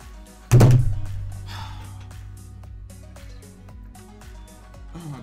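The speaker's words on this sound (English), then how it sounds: "Oh god, I immediately regret that desk smash." A fist slams down hard on a desk at a gaming setup: one loud, heavy thump near the start with a brief rattle, then fading resonance under game sounds and background noise.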